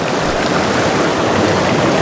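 A year-round creek flows on open land, a steady, dense rush of water filling the whole stretch evenly and close by, with no voices over it.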